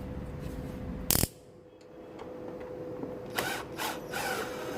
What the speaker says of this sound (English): First you need to take out 5 screws from the filter compartment.